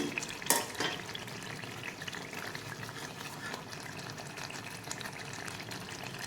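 A thick garlic pickle bubbles and sizzles in a pan, with a sharp spatter near the start and steady crackling throughout, no voices.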